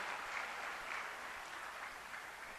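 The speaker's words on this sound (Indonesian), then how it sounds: "Tepuk tangan buat Tuhan Yesus." Applause from a worship audience, a dense continuous wash of clapping that holds steady and even throughout, heard from a distance.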